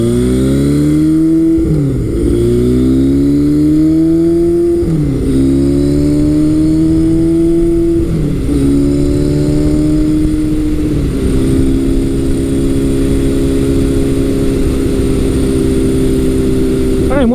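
A 1978 Kawasaki KZ1000 LTD project motorcycle on a test ride roars loudly and continuously, its engine note climbing through repeated gear changes before settling into a steady cruising drone, with wind noise throughout.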